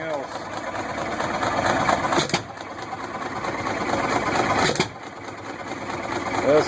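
A rebuilt 1926 antique hit-and-miss gas engine runs with a steady, rapid mechanical chugging and clatter, punctuated by two sharp firing bursts, with voices talking nearby.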